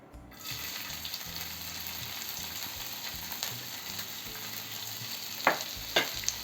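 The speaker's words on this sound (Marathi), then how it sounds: "तेल थोडंसं नॉर्मल गरम झालेलं आहे तर यामध्ये एक ते कांदा उभा चिरलेला घेतला आहे हा ॲड करायचा आहे" Sliced onion frying in hot oil, a steady broadband sizzle with clattering stirs and a couple of sharp spatula knocks near the end, close and fairly loud with no talk.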